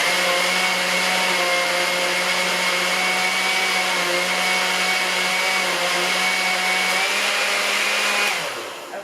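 A blender whirring steadily as it mixes cracked eggs for quiche, a loud continuous motor whine that holds for several seconds, then winds down at the end.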